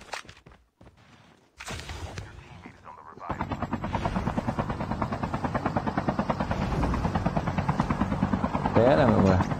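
Video game helicopter with a loud, pulsing rotor chop that starts after a couple of seconds of scattered noises and keeps beating steadily, someone talking in the background.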